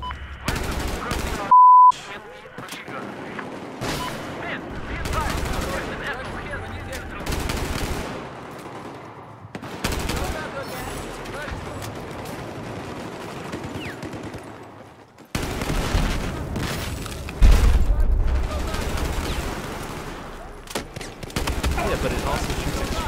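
Dense, loud gunfire from the shooter game Battlefield 4, with rapid automatic bursts and single shots, brief pauses and electronic beeps, along with a player's voice talking.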